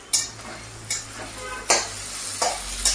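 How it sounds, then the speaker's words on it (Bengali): Onion and bay leaf fry in a pan, with a low steady sizzle broken by four sharp spatula scrapes spaced about a second apart, close and fairly quiet. "এবার পেঁয়াজটা ভাজা হলে তারপর আবার দেখাচ্ছি।"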